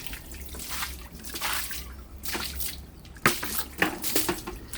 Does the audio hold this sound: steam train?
no